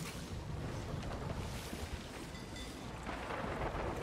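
A stormy sea in the pirate game Sea of Thieves, with a continuous roaring wash of wind, rain and rumbling thunder around a ship, dense and steady throughout without talk.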